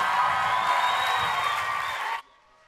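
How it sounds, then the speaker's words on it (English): An audience at a business school talent show breaks into loud, sustained applause with scattered cheers, a dense close roar of clapping that cuts off abruptly near the end. "So please welcome with a big thunderous applause, one and only Monique"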